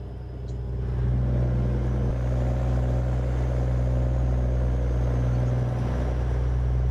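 A truck engine idles and runs in American Truck Simulator, a steady loud low rumble with a deep harmonic hum that swells slightly after the first second and holds.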